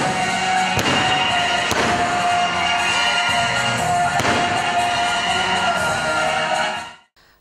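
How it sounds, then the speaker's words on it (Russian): A fireworks salute for Defender of the Fatherland Day booms loudly and continuously, with sharp explosive bursts and crackling over a dense roar until it cuts off near the end. "Из 23 мощных залпов в честь Дня защитника Отечества был дан салют."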